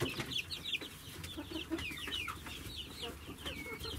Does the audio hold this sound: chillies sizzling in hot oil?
no